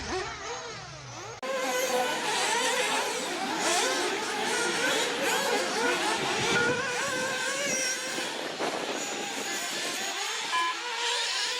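Nitro RC buggy engines scream around an outdoor offroad club track during a buggy heat, a loud, continuous high-pitched whine rising and falling as cars pass, with a faint voice in the background.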